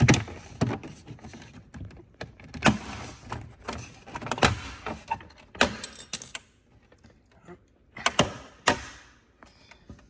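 A door trim panel on a Porsche Cayman S 987 being pulled up off its retainers, giving a series of sharp close plastic snaps and clicks with rustling handling between them, no talk.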